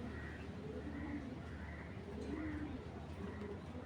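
A Belgian Python bloodline racing pigeon coos softly in repeated low phrases, close by, over a steady background hum.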